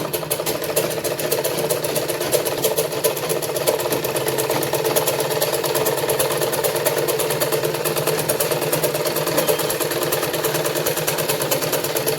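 A sewing machine stitches a long seam along the side of a salwar, a steady rapid mechanical whir with fast repetitive needle clatter running unbroken throughout.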